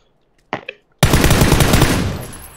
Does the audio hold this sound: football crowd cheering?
no